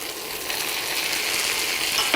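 Chopped medium tomato dropped into a pan of lightly golden frying onions, giving a steady bright sizzle that swells a little as it cooks, with a faint clink of a utensil at the end.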